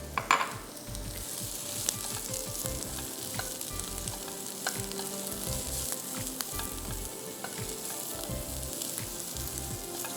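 Cauliflower and other vegetables sautéing in a pan, a continuous close frying sizzle with frequent rhythmic stirring scrapes throughout, without speech.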